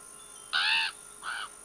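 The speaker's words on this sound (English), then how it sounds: "Shh, bird." A bird in the survival video game The WarZ gives two harsh caws, the first longer and louder, the second shorter, separated by a brief pause against a quiet background hum.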